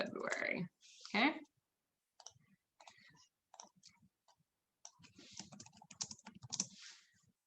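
Bursts of clicking keys on a computer keyboard, typed in short uneven runs with pauses, close by, and a voice speaking at times between the keystrokes.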